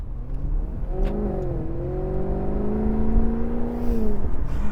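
Maserati GranTurismo Convertible sports car engine hums close and steady, its pitch climbing smoothly as it revs under acceleration, with no talk over it.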